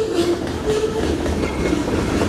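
A freight train of about 100 hopper cars rumbles past at moderate speed, a steady low roar with faint rail clatter and a brief metallic squeal, no voices.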